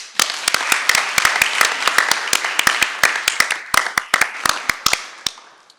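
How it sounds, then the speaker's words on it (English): Applause for new board officers at a school district Board of Trustees meeting comes from a small group, with sharp, distinct individual claps close by that gradually taper off. "Let's give them a round of applause."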